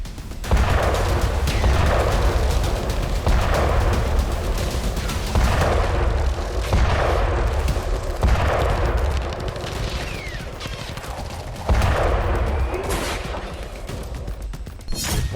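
Artillery shelling and gunfire during a ground operation in Gaza, a dense continuous roar of rapid shots and repeated heavy booms close by, loud throughout with no talk.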